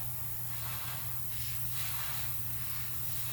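An airbrush sprays dark umber paint onto cardboard in a steady, soft hiss with gentle surges, close and fairly quiet, with no voices.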